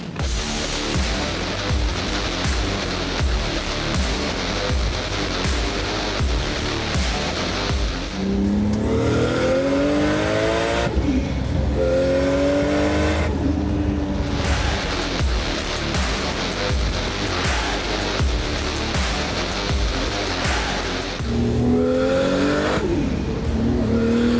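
A twin-engined Toyota Starlet race car accelerating hard, its loud engine howling up through repeated gear changes with brief tire squeal, close and continuous with no talk.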